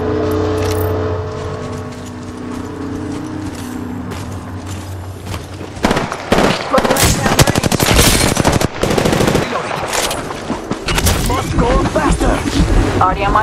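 Rapid automatic gunfire from Apex Legends played on a Nintendo Switch Lite, dense bursts of loud shots crackling alongside game effects and a brief spoken callout.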